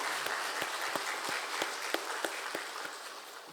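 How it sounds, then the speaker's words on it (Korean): A church congregation applauds during a Sunday worship service, a brief burst of scattered hand claps that thins out toward the end, heard at moderate distance in a reverberant hall. "다시 하나님께 우리 영광의 박수"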